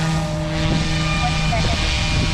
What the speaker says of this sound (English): What an awesome helicopter.